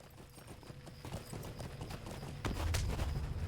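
Steady clip-clop of horse hooves at a brisk rhythm in the online game Lord of the Rings Online, close and continuous, with a heavier thud and rumble near the end.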